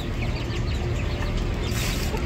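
Farm hens around a laying nest, steady dense clucking and chicken chatter close by over a loud, busy background, continuous throughout.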